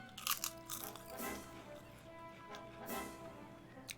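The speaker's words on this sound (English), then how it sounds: "You guys hear me like munching on food." Someone eating food close to the microphone, with several crisp crunching bites and chewing at an irregular rhythm, fairly faint and without talking.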